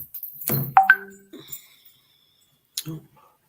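A brief two-tone electronic ping from a phone notification, sharp and close, arriving amid scattered nearby voices and light room clatter.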